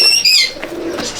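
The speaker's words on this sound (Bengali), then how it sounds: "এটাও আমার একটা মুর্শিদাবাদী কবুতর" A Murshidabadi high-flying pigeon at a loft in Pachgram, Murshidabad, gives a brief, soft, close coo after a few thin chirping notes, with no one talking.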